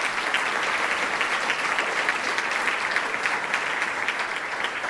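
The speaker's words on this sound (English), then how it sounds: "So please, round of applause." Steady applause from an audience at a healthcare awards ceremony, dense even clapping that holds at a constant loudness throughout with no voices over it.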